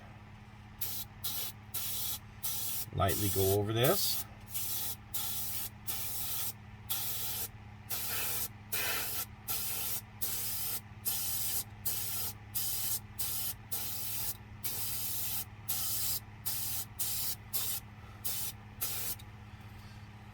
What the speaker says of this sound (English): put my spray gun down